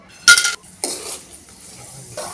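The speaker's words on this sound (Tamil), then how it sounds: "ஒரு கைப்பிடி அளவுக்கு சுண்டை வத்தல் எடுத்து வச்சுருக்கேன் இதை போட்டு நம்ம வறுத்து எடுத்துக்கலாம்" A handful of dried turkey berries drop into hot sesame oil in a pan, giving a sharp clatter and rattle of stirring followed by a soft sizzle close by.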